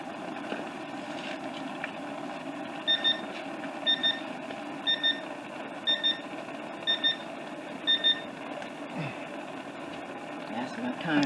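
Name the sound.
kitchen timer beeping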